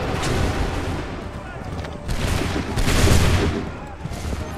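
Musket volley in Assassin's Creed III, a loud, dense rumble of massed gunfire rolling in waves under shouted battle commands, swelling around two and three seconds.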